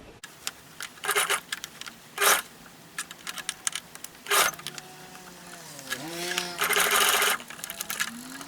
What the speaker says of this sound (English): I'm gonna just start to stitch my collar onto the neck of the bodice.